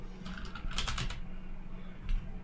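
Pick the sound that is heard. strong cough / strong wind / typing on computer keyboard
typing on computer keyboard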